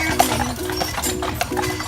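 A carriage horse on Mackinac Island clip-clops along at a steady walking rhythm, close and clear, with a faint metallic jingle of harness and a sustained tone in the background.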